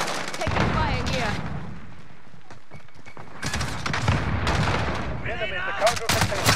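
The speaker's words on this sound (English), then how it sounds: "Taking fire here." Gunfire in a tactical shooter game set in a killhouse: bursts of shots and thumps crowd the opening and the later half, with a quieter stretch between, and voices call out over the action.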